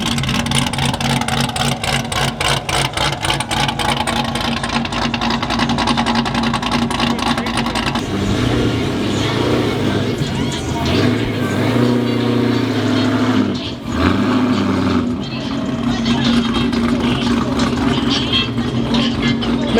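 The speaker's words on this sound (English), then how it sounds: "Man, this V6 sound good." A V6 car engine runs loud and close at a drifting event, holding a steady rumbling drone with rising revs and brief dips, while people talk nearby.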